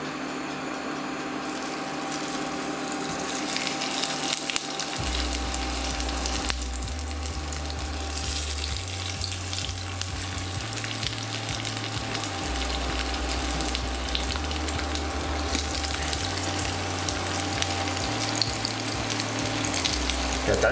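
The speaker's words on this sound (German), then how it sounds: "Ja, ich tue das Fleisch jetzt in die Pfanne rein." Meat for cordon bleu sizzles steadily in hot oil in a frying pan, a continuous dense crackle lasting about twenty seconds over a low hum that shifts in pitch, with no talking.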